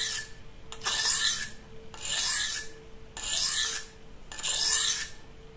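A knife drawn across a DMT diamond sharpening stone with light pressure, four steady rasping strokes separated by short pauses, close and clear with no talking.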